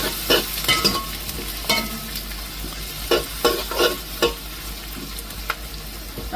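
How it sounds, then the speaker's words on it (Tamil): Curry leaves fry and crackle as they are stirred in a hot pan, a steady sizzle broken by repeated scraping and knocking of the spoon. "வதக்குவோம்"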